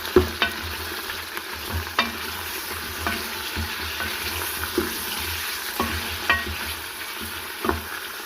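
Meat is added to lightly browned onions in a pan and fries with a steady hiss and sizzle, broken by a few sharp clinks and scrapes as a spoon stirs it, with no voices.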